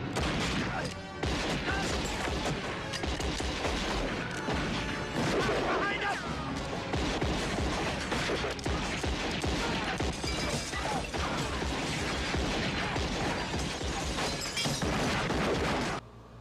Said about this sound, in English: Doc runs over and starts firing his 2 6-shot revolvers through the windows to Ike Clanton.